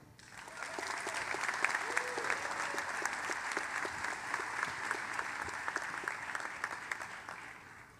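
Crowd applause during a 2018 law school graduation ceremony, a continuous wash of many hands clapping at an even level from start to finish, with faint murmuring mixed in.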